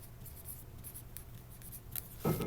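A pencil scratches across paper in soft, continuous strokes, faint and close, with a brief louder rustle near the end.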